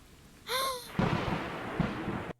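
A deep rumble of thunder rolls in the video game Stray, rising after a brief tonal chime and then swelling into a broad, loud roar that fades after about two seconds, with no one talking.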